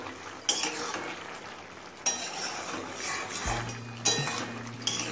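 A spoon scrapes and knocks against a pan as sugar is mixed into a pumpkin and capsicum curry, with a few distinct clinks over a soft simmering hiss, close by.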